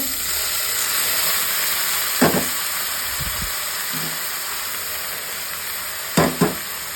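Spice tempering (bagar) sizzles steadily in hot oil for a gourd-leaf dish, a constant close hiss with a few brief clinks and stirring knocks over it.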